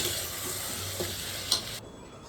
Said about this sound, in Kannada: ಅಕ್ಕಿ ಹಾಕಿ 1-2-3 ನಿಮಿಷ ಚೆನ್ನಾಗಿ ಕಲಿಸ್ಬೇಕು ಹಿಂಗೆ